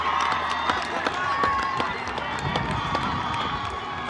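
Rugby crowd at a CBC Hornets versus Saint George's Dragons schoolboy 1st XV match cheering and clapping after a try, a steady roar with scattered claps under a commentator's voice.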